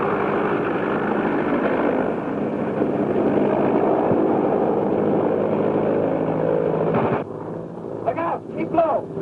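A propeller airplane drones loudly and steadily in flight for several seconds, then the roar cuts back sharply as brief shouted voices break in near the end.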